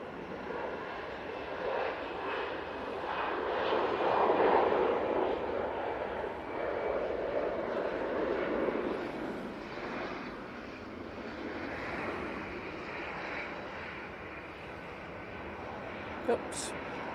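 An easyJet Airbus A320-200 airliner takes off from runway 05 left at Manchester Airport, its broad engine roar swelling to a peak and then slowly fading into the distance.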